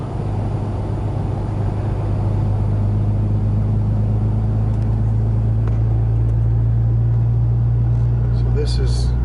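A 2010 RAM 2500 pickup cruising in sixth gear at low RPM, its engine a steady deep drone with road rumble throughout, close and constant, with no clear speech.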